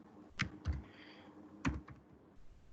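Python code being typed on a computer keyboard: a few crisp key presses in two small bursts, close and distinct against a quiet background.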